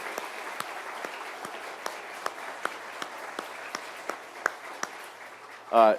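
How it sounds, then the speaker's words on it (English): Scattered applause from a small crowd at a swearing-in ceremony, with individual claps ringing out over a steady patter, fading before a voice starts at the end. "Let's give him a round of applause."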